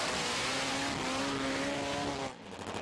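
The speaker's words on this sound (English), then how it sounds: "In Top Fuel Bike, the big story was the debut of Ian King's brand new monster machine" A Top Fuel drag racing bike at a European championship meet roars at full throttle in a loud, continuous, high-pitched howl, then abruptly drops away as the run ends.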